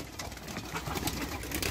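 Pigeons in a village coop with chickens in Jeddah coo softly amid a steady, dense ambient bed of farmyard noise, no voices.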